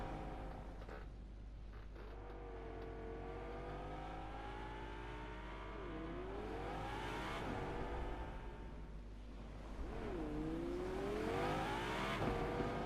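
Race cars circle the track in a Bahrain Grand Prix race, several engines whining through rising and falling gear changes, one car swelling loud as it sweeps past, then another climbing again, continuous and fairly close.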